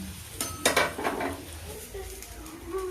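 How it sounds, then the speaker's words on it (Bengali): Parathas fry in oil and ghee in a pan, a soft sizzle broken by a few sharp clinks and scrapes of a utensil against the pan, close and fairly quiet. "এই যে আমি পরোটাগুলো তেল দিয়ে ভেজে নিচ্ছি"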